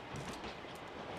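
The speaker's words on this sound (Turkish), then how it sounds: "Aa, o tren de buraya geliyor." A train rumbles past in the PUBG Mobile video game, a dense, steady rolling roar with faint rhythmic clatter, moderately loud and continuous throughout.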